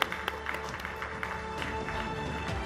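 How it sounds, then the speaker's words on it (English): Audience applause in a large hall at a women's celebration event honouring India's President, a sustained wash of clapping from a crowd, steady and fairly close with a few sharper individual claps standing out. "Big round of applause, ladies and gentlemen."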